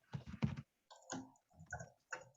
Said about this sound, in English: I'm typing it in the chat now.